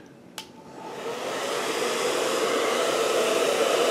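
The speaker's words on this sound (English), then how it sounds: "So I'm going to get a hair dryer and heat that up so it'll come off easier." A hair dryer switches on with a click and blows steadily, a loud broadband rushing whoosh that builds and holds, heating glue on a helmet.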